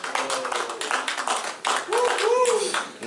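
Wedding guests at a civil ceremony clap in brief bursts right after the couple is pronounced married, close by, with voices and cheers mixed in.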